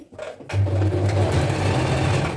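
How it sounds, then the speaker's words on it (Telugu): A sewing machine stitches a dhoti, its motor starting up after a brief quiet moment and then running as a steady, close, loud mechanical hum with no talking. "ఇప్పుడు ఇక్కడ ఒక స్టిచ్ అనేది వేద్దాం"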